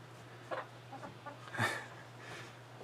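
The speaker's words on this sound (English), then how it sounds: "Try not to step on the chickens. They're in here checking everything out." Chickens wander about a coop, giving soft scattered clucks and short murmurs, one louder squawk in the middle, faint and close over a low steady hum.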